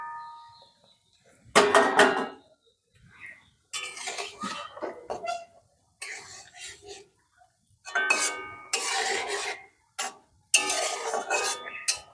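Pieces of pointed gourd (potol) are dropped and stirred into a pot of boiling curry gravy. They make several separate bursts of clattering and clinking, with quiet gaps between them.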